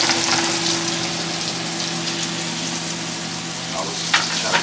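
Scallops sear in garlic butter in a hot pan, a loud, steady frying sizzle with light crackle and a couple of stirring scrapes near the end.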